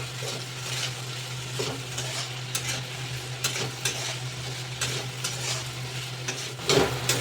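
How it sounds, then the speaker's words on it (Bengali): Okra being stirred with turmeric and salt in a frying pan, a soft continuous sizzle under repeated scraping strokes of a spoon against the pan, close and moderately quiet, ending with a louder clatter. "এবার দিয়ে দেবো হলুদ গুঁড়ো আর স্বাদ মতন দিয়ে দেবো লবণ দিয়ে এটাও নেড়ে চেড়ে মিশিয়ে নেবো"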